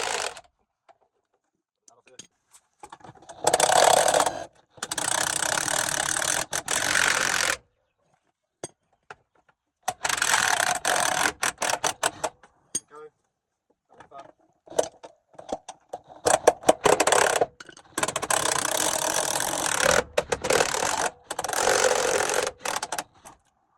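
Impact wrench driving a power bar with a 19mm socket on a rusty leaf spring bolt under a vehicle, loud bursts of rattling hammering in several long runs separated by short pauses, close up.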